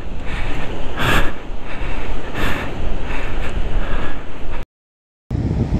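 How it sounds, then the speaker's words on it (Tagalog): Strong wind buffets a seaside overlook, a loud, close, continuous rumbling roar with surging gusts that briefly cuts out near the end. "Grabe lakas ng hangin, oh."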